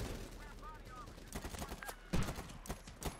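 Gunfire rattles through a round of Medal of Honor Warfighter, a burst of close shots and a sharp impact amid game noise, while players talk over it.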